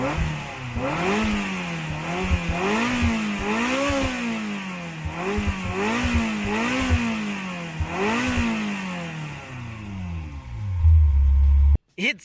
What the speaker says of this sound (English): the modern Ferraris, the one with the V8 twin turbo, can only dream this kind of exhaust noise